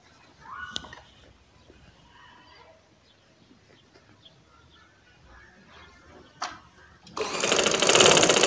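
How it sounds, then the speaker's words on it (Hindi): A sewing machine stitches a baby frock in short bursts separated by quiet handling of fabric, then runs loud and steady at the end. "इधर से ऐसे पकड़ के ऐसे रखेंगे और सिलाई लगाना स्टार्ट करेंगे"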